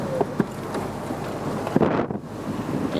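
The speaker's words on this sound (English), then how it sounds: "where you open it, you get this wind boost" Wind rushes over a microphone inside a Volkswagen Beetle convertible with the roof open at low speed, a steady broadband buffeting roar with a few gusty thumps, close and fairly loud.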